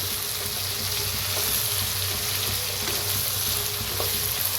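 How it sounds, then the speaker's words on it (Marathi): Vegetables for an idli sambar, including drumsticks and potatoes, being stirred in a pan after salt is added, with a continuous loud sizzle and faint occasional scrapes. "मीठ घातल्यावर जर हलवून घ्यायचं"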